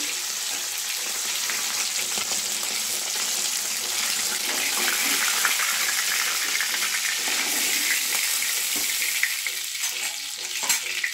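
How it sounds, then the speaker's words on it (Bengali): Small sarputi fish frying three at a time in hot oil in a nonstick pan, a steady close sizzle and crackle lasting the whole stretch with occasional stirring clinks and no talk. "এই তিনটে তিনটে করে ভাজছি।"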